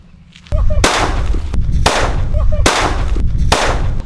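Four loud bangs from five-inch Lakshmi country firecrackers in sequence, each a sharp blast with a crackling tail, after a brief quiet start.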